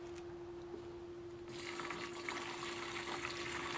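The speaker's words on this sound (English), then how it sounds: "So now let's go ahead and drain all the fuel out." Fuel trickling out of the carburetor of a Murray 4.75HP Briggs and Stratton lawnmower, a faint steady liquid splash that grows slightly louder partway through, with a low hum underneath.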